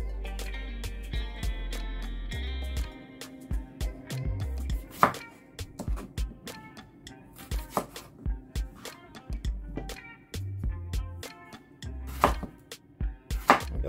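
Irregular knife chops through cucumber on a chopping board, some quick bursts and pauses, close by, over a low background hum.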